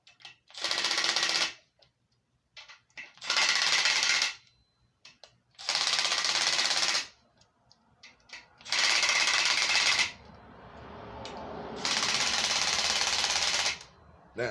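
A pneumatic impact gun set to its lowest setting, number 1, runs in five loud, steady rattling bursts of a second or two each, separated by pauses with faint handling noise.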